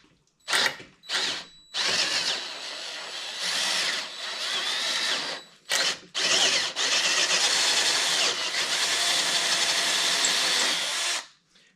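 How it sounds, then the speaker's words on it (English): A handheld power drill whirs close up in short bursts at first, then longer sustained runs with brief pauses, loud and steady, drilling a hole to install a threaded insert. "Don't have very good control with this drill."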